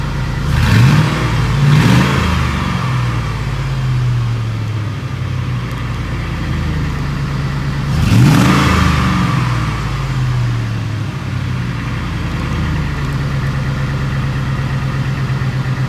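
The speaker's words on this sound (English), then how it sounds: "All right, you wanna give it a couple revs?" Truck with a new Valvetronic universal muffler idles with a deep exhaust rumble, then gets a couple of short, loud revs that swell and fall back to idle.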